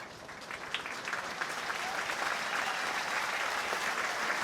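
A rugby crowd at Franklin's Gardens in Northampton applauds as replacements come on, with steady, distant clapping swelling slightly and holding as a broad wash of sound.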